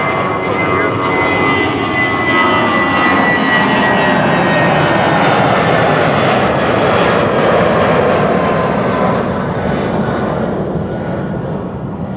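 A British Airways plane bound for London Heathrow takes off from Amsterdam Schiphol, its engines a loud, sustained roar that swells and holds throughout.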